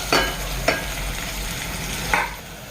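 Thinly sliced onions fry in a pan for a chicken biryani, giving a steady low sizzle broken by three sharp scrapes of a spoon stirring against the metal, no voices.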